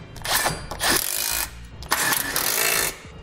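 Power tool snugging base plate bolts into a 2016 Jeep Grand Cherokee frame, two bursts of whirring driver noise separated by short pauses, close and fairly loud with no talk.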